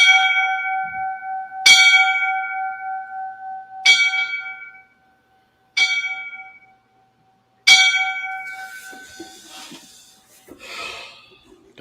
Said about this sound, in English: I'll read him the 5 bells.